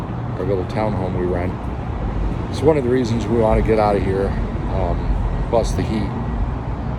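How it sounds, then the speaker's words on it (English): Steady road traffic in Phoenix rumbles and hisses continuously in the background while a person talks close up over it. "the noise you hear behind me is the traffic that we deal with all the time."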